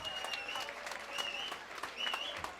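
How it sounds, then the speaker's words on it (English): Applause and crowd noise for two boxers after a ten-round fight at BB King's, fairly distant, with whistles and shouts rising through the clapping. "let's get a nice round of applause out here for both of these fighters"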